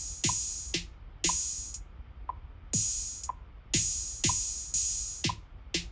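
Metronome app clicking steadily at 30 BPM split into eight subdivisions, bright sharp electronic ticks evenly spaced about every half second, close and isolated with nothing else heard.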